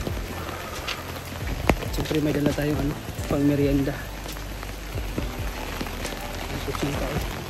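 Heavy rain pours steadily across the whole stretch, a dense wash of drops on surfaces outdoors, with people talking over it and some brief knocks and clatter mixed in.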